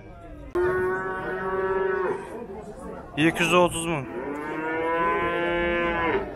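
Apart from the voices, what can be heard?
cow mooing at livestock market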